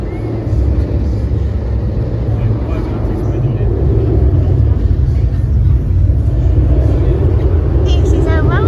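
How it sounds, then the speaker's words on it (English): Nemesis Inferno roller coaster ride in motion: a loud, continuous close-up rumble of wheels on track and rushing wind, with a brief high squeal near the end. "This is a roller coaster."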